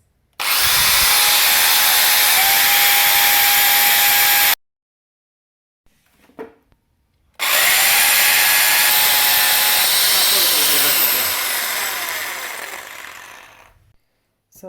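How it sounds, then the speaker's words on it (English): A power drill boring two holes into a wall for mounting IKEA HOPPVALS blinds: two long, loud, steady whining runs, the second winding down at the end, separated by a short quiet gap with faint handling noise. "So I'm going to drill in these 2 places."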